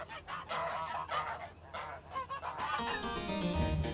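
Several geese on a Tudor-era monastery farm honk loudly and close by in a rapid, overlapping series of harsh calls, ending in a brighter, more sustained squawk.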